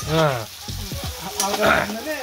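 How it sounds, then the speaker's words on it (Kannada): Tomato frying in a pan for uppittu gives a continuous close sizzle, partly covered by a person talking over it. "ಒಂದ್ ಸ್ವಲ್ಪ ರೆಡ್ ಆಗೋವರೆಗೂ ಫ್ರೈ ಮಾಡ್ಬೇಕು."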